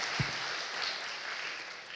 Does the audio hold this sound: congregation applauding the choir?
yes